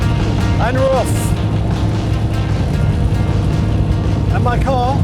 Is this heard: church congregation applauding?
no